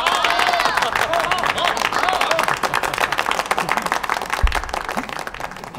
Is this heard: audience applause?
yes